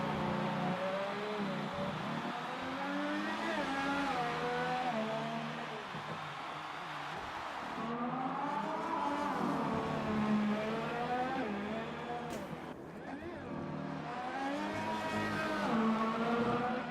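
Race cars lapping a Singapore street circuit in a racing game, a continuous droning engine note that rises and falls through gears and corners, with occasional brief tire scrubs and no talk.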